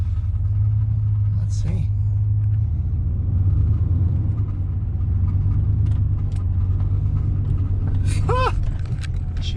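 A surplus Chevrolet Suburban with 48,000 miles idles after starting, its steady low engine rumble running under brief talk throughout.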